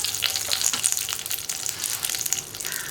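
Dried red chillies and a sprig of curry leaves crackle and sizzle in hot oil with mustard seeds over a low flame, a steady, close frying hiss with small popping bursts throughout.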